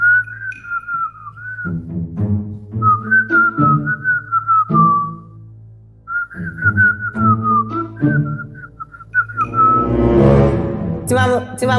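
A person whistles a melodic tune in long sustained phrases, loud and close, with a rhythmic backing sound underneath and a burst of noise near the end.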